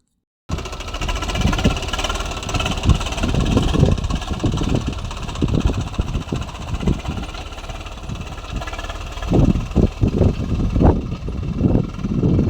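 A farm tractor's engine runs steadily in a field after levelling soil, a loud, close diesel drone with repeated low thumping pulses throughout and no talking.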